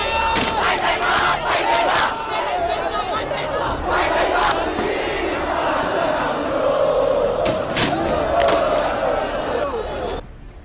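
Thousands of young Gen-Z protesters fill the streets of Kathmandu, shouting and chanting loudly against the government in a continuous dense roar of voices, with occasional sharper yells and bangs.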